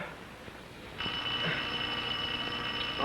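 Telephone ringing in a home, a bright electronic ring that starts suddenly after a quiet moment and holds steady and fairly loud until the end.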